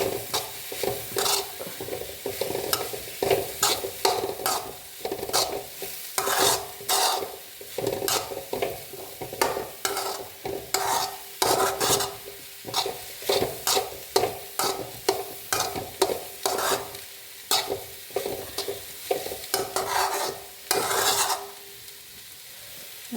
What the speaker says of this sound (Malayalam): കുറച്ച് മഞ്ഞൾപ്പൊടി ഇട്ട് ഇത് ഇളക്കി കൊടുക്കാം